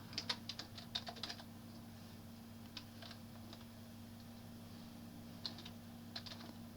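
Typing on a computer keyboard resting on someone's lap, with quiet irregular bursts of clicks separated by pauses over a steady low hum, no talking.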